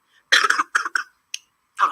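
A child coughs several times in quick bursts, close and fairly loud, with a brief pause and one more cough after.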